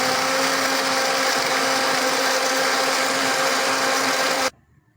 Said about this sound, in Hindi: काला नमक डाल लेंगे, अब इसको दोबारा थोड़ी देर के लिए ग्राइंड कर लेंगे